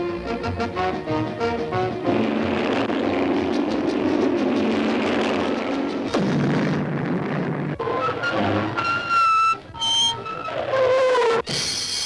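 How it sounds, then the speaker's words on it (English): A loud, sustained roar like a jet engine rushes past in a cartoon soundtrack, followed by sharp whistling and squealing sounds near the end. "another roar, like the sound of a giant jet"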